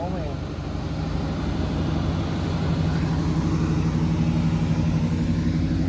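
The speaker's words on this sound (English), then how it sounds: "Got some engine revving." Car engine rumbling steadily at an outdoor swap meet, a low continuous drone close by with no sharp revs standing out, while people talk nearby.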